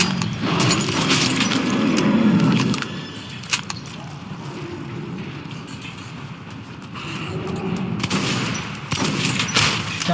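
Gunfire rings out in the shooter video game Metro Redux, with bursts of loud sharp shots in the opening seconds, a quieter stretch, then more rapid firing near the end, all over a dense game soundscape.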